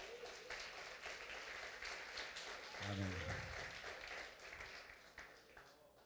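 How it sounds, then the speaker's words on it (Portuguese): A church congregation gives a round of applause to Jesus during a service, a soft, steady wash of clapping heard from a distance, with a brief spoken word partway through. "dê uma salva de palmas a Jesus"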